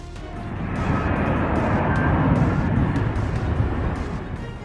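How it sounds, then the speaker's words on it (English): A loud F-35 fighter jet roars while landing in a sustained, swelling rumble that builds and then slowly fades, with no voices over it. "Watch this F-35 nosedive during landing."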